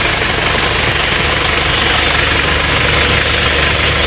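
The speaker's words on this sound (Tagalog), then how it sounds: "ito yung makina niya" An old-model car engine idling at close range, a loud steady rumbling drone with a constant low pulsing throb and no voices over it.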